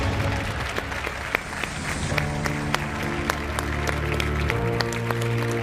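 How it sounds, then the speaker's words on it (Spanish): Applause from the audience at a European politics conference as a speaker is introduced, a sustained patter of many hands with occasional sharper claps, steady and moderately distant, with a low hum underneath. "Un fuerte aplauso."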